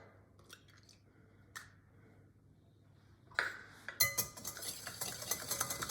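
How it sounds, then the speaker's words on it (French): Sugar and egg are whisked together in a bowl, quiet at first, then a close, fast run of wet clicking and scraping strokes that picks up and carries on steadily, with no voices. "je mélange le tout"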